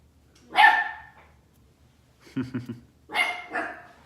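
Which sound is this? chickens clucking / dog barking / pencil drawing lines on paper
dog barking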